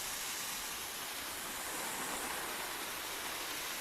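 Water sprays steadily inside a greenhouse as plants are watered, a continuous broadband hiss that stays close and even throughout with no talk.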